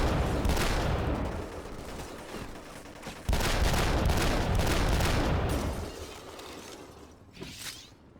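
Pistol gunshots in a shooter game set on the Strassen von Veblensk, loud, harsh cracks packed into a near-continuous barrage that eases off toward the end.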